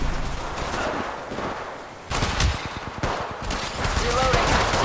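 Rapid bursts of gunfire in Apex Legends Mobile, loud and close, with a brief lull near the middle before the shooting picks up again, mixed with game effects and callouts.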